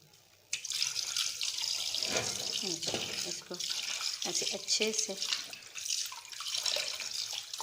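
Tap water runs steadily into a sink while fish is washed, a continuous bright hiss with splashing changes as the fish is handled, under a person talking close by.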